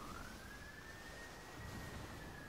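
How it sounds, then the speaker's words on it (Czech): An emergency vehicle siren passes outside a house, one faint, distant rising-and-falling wail heard through an open window over a steady background hiss. "jestli to tady ty majáky budou hodně jezdit kolem baráku, tak asi budu muset zavřít okno, protože to asi slyšíte"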